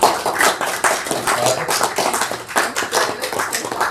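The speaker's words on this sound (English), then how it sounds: "Give a warm round of applause to Margaret" An audience at a club meeting in an RSL hall claps warmly for a member, with dense, continuous applause from many hands, loud and close, lasting the whole moment.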